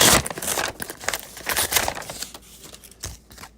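A foil trading card pack wrapper is torn open and crinkled close by, in quick crackling rustles that ease off toward the end.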